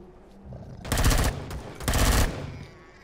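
Two loud bursts of rapid automatic gunfire from a weapon in the survival video game Empyrion, each about half a second long, separated by a short pause.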